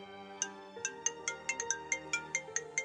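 A phone ringtone on an outgoing video call plays as a bright, evenly spaced melodic chime, repeating tones over a held electronic chord, clear and close with no talking.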